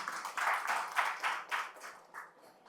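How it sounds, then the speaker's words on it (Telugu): An audience at a Bahujan Samaj Party office gathering of folk artists claps in quick rhythmic bursts, moderately close and fairly quiet, fading toward the end. "అందరం కూడా ఒకసారి గట్టిగా చప్పట్లు కొట్టుర్రి"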